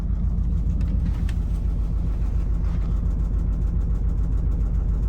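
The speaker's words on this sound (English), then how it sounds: "you can definitely hear that the engine's running." A narrowboat engine runs steadily, heard from inside the closed-up boat as a continuous low, droning hum with a faint rhythmic throb, loud and unbroken throughout.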